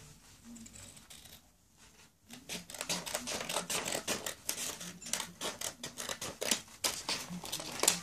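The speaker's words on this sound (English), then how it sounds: "So by that, I mean I just cut out a little strip like this" Scissors snip through a strip of paper in a quick, steady run of crisp cuts, close and fairly quiet, with a short pause before the cutting picks up.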